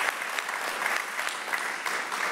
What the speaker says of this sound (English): So another round of applause for our future leaders.